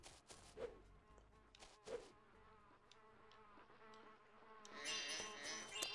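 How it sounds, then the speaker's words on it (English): Bees buzz in Spyro: Enter the Dragonfly, a faint, insect-like drone with a couple of louder swells passing close, then a higher shimmering burst near the end. "The bees are being kind of a pushover right now."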